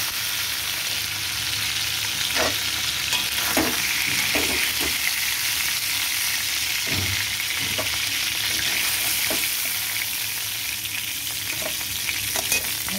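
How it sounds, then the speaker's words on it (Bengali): Boal fish pieces frying lightly in hot oil, giving a continuous close sizzle broken by occasional scraping stirs of a spatula, with no talking. "বোয়াল মাছ কড়া করে ভাজলে খেতে ভালো লাগে না, তাই হালকা করে ভাজবো।"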